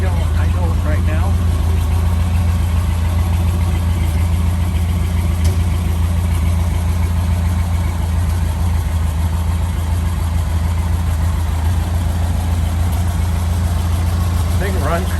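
A 1930 Ford Model A engine idling steadily, a deep continuous low rumble that stays close and loud throughout, with faint voices now and then in the background.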